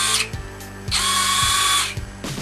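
A power drill whirs in short bursts, ratcheting as it unscrews landing gear screws from a drone, each spin close and loud with brief pauses between.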